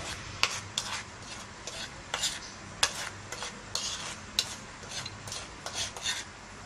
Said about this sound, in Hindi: इस मसाले को हम अच्छे से मिक्स कर लेंगे।